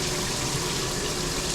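Water runs steadily through a newly fitted pipe joint wrapped in white Teflon tape, a continuous close rushing hiss with no pauses, heard alone during a studio move-in.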